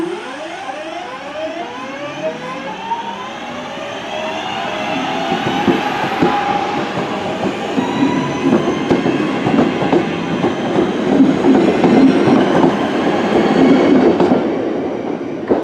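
A train arrives at Dinting Station with rising, screeching wheel squeal and rumble, clicking rail joints growing louder as it nears and slows, with no talk.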